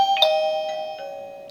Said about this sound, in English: You can see the chime's going off, my tablet's also going off.